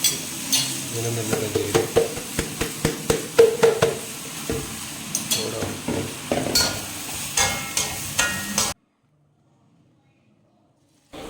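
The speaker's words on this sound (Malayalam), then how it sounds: "ആ അരി ഇതിലേക്ക് ഇട്ടിട്ട് നന്നായിട്ട് റോസ്റ്റ് ചെയ്തെടുക്കണം കേട്ടോ" Steady scraping and stirring of a spoon as rice roasts in ghee in a hot pan for biryani, over a soft sizzle, with rhythmic clinks, then an abrupt cut to silence.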